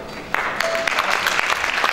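Live audience applause greets an opera singer from the Izmir State Opera as he comes on stage, a dense, loud wash of clapping that swells in after a quiet start and continues steadily.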